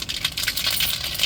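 Mustard seeds go into a hot cooking pan with a quick burst of dense, rapid crackling and popping, close and fairly loud.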